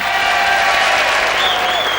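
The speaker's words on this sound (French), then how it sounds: "D'un côté, nous avons Rabia que vous pouvez applaudir une dernière fois." Studio audience applauding on a 1997 French television game show, a steady dense wash of clapping with a few whistles or cheers rising above it, sustained and fairly loud throughout.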